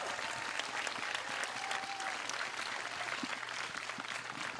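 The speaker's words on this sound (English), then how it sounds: "let's just do a really loud cheer for those 3 people who made the team" Live show audience applauds and cheers for three runners named to the team, a steady, dense crowd roar of clapping sustained throughout.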